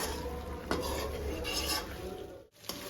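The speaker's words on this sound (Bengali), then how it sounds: "আলুটা ভালো করে আবার কষিয়ে নেব যাতে এর মধ্যে মশলাটা ঢুকে যায়" Green jackfruit and potato being stir-fried in spice masala for an echor chingri dish, with steady scraping and clinking of a spatula against the pan under a soft background hiss, one sharper knock partway through.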